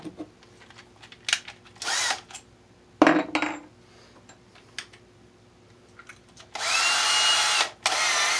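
Several short bursts of a power drill boring holes in the back of an electrical box, separated by quiet gaps and small clicks and clunks, ending with a longer steady whir of drilling.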